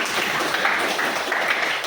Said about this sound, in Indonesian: Tepuk tangan untuk Pisa